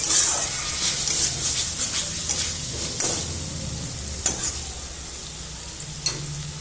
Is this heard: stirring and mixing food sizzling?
yes